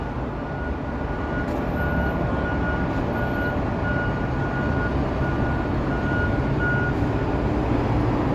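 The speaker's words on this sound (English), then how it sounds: "Lots of buses." Buses idle and move around a Toronto bus terminal at night, a constant low engine rumble with a faint intermittent high beep in the background.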